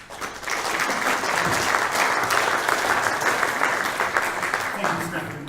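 A conference audience at a tyre industry event applauds warmly, a dense steady patter of many hands clapping for several seconds before thinning out at the end.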